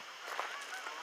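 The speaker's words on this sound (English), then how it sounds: "Geese! Oh my god!" Geese honking at a dam in the dark, a brief faint honk at some distance over background noise.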